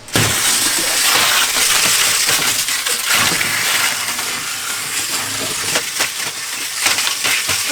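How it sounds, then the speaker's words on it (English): A Harbor Freight shrouded wire wheel being pulled out of its packaging: loud, harsh, continuous crunching and crackling plastic, close up, with no talk. "This is how you get a Harbor Freight wire wheel out of the packaging."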